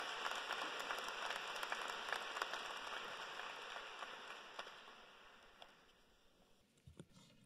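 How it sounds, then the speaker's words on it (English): Faint, distant applause for graduates at Fort Collins High School's graduation ceremony, a broad wash of clapping that slowly thins and fades, with a few scattered claps near the end. "One more round of applause for these amazing young people."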